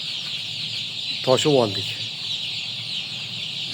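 Young Adler chicks in a poultry house keep up a constant high peeping and clucking, with a brief voice speaking partway through.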